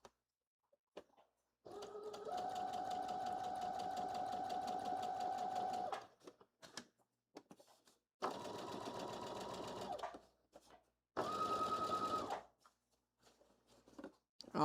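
A home sewing machine stitches a blazer sleeve seam with a 1/2 inch allowance, including a back stitch, in three close whirring bursts of about four, two and one seconds, separated by quiet pauses with soft handling noises.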